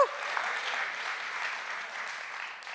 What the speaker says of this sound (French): Est-ce qu'on peut applaudir le Seigneur, s'il vous plaît